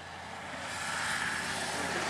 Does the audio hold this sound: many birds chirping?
no